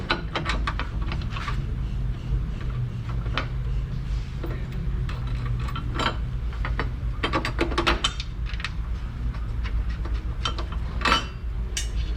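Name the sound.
ratchet tightening bolts on a Kia Sorento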